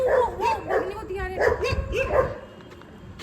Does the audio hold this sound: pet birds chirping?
no